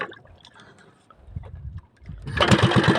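A small engine cranks with a few sputtering pulls, then catches and runs loud and rough at close range for the last second or so.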